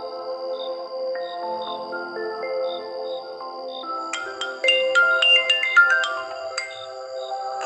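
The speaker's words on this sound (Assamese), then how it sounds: "ফোনটো বাজি আছে নধৰ কিয়" A mobile phone ringtone plays a bright electronic melody of rising and falling tones in an Assamese TV serial, steady and clear with no voices over it.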